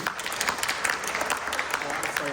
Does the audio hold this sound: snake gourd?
no